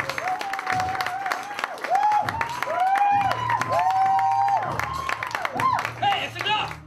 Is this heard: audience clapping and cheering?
yes